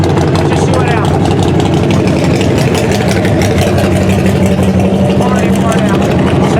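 A Kawasaki ZH2 motorcycle at a drag strip: a loud, steady engine rumble that is very close and continuous throughout, with a talking voice partly buried under it.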